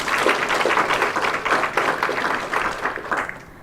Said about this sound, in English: Another round of applause for Jamie.